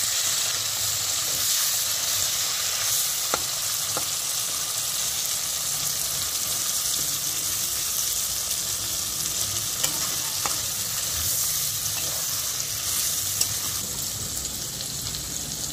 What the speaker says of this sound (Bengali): ক্যাপসিকাম আর লঙ্কা আর টমেটো যেগুলো কেটে রাখা ছিল ওগুলো দিয়ে দেওয়া হলো। দিয়ে একটু ভেজে নেওয়া হবে।